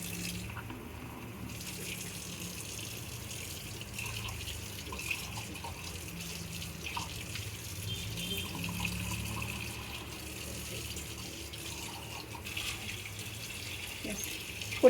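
Tap water running into a sink while dishes are washed, a low steady wash of flow with faint clinks, continuous and fairly quiet throughout.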